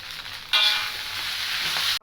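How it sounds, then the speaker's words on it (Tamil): Rice vermicelli noodles for vegetarian bihun goreng frying in a pan, a steady hiss rising suddenly as the noodles go in and holding close and continuous, with faint stirring, no talk. "மீகோனை இதில் சேர்த்துருவோம். சேர்த்துட்டு நல்லா கிண்டி விடுங்க."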